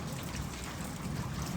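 Rain at the end of a storm falls steadily, a close, dense patter of drops on surfaces with no talking.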